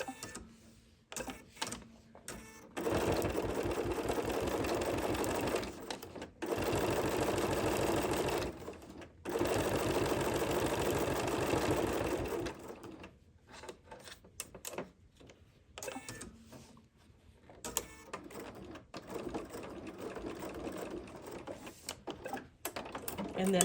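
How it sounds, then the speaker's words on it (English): A sewing machine stitches a quilt design, running in several sustained bursts of steady rapid needle chatter with short pauses between, fairly close and loud, with quiet speech and handling noises in the gaps. "Got one more little stitch to do there on the corner."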